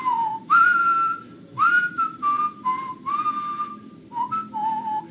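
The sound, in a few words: person whistling a melody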